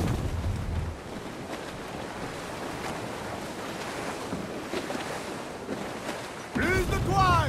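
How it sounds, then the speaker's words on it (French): Wind and ocean waves rushing around a sailing ship at sea in the Assassin's Creed IV Black Flag game, a steady loud roar of surf and gusting wind that swells louder near the end. "Le vent a forci."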